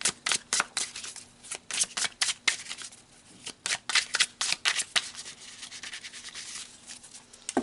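Tarot cards being shuffled by hand: a run of quick, crisp riffling and rubbing bursts, close and fairly quiet, with short pauses between flurries and no voice.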